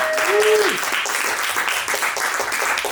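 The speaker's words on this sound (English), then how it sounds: "Round of applause, please" Audience applause at a spoken word poetry event, a dense, loud round of clapping that starts under a brief held vocal tone and carries on steadily to the end.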